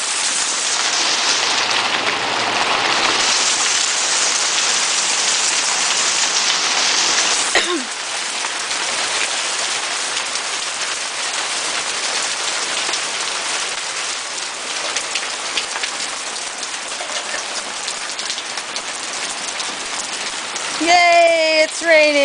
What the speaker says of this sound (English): Yay, it's raining and it's hailing.